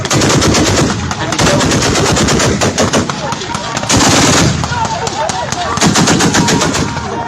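Sustained machine-gun fire rattles in rapid continuous bursts with short breaks, loud and close throughout, played back from battle footage, with faint voices briefly underneath.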